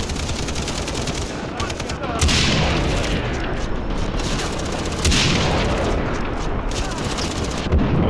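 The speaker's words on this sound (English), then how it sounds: "I don't usually like loud snipers, but we're running with what we got" In the game Far Cry 3, loud, heavy sniper rifle shots and explosive booms crack over dense, continuous battle noise. Two strong blasts stand out near the start and middle.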